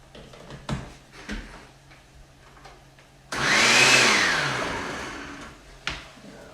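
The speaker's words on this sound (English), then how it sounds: "you're going to want to zip it up in a blender" A blender whirs loudly for a few seconds, its motor rising then gradually winding down, with scattered knocks and clatter before and after.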